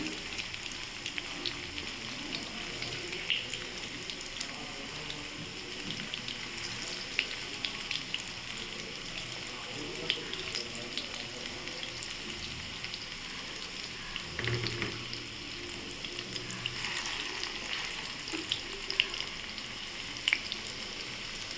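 Egg cutlets, just turned over, fry in a pan as a steady, even sizzle like light rain, with occasional faint pops and ticks, moderately quiet and continuous with no one speaking.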